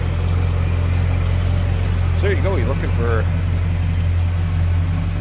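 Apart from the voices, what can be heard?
1977 Ford Thunderbird engine running smoothly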